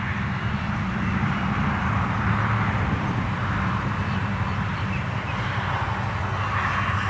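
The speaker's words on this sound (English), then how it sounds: "What a gorgeous airplane." A radio-controlled model airplane makes a steady, loud engine drone as it flies low past at a model flying field, holding an even roar with no voices.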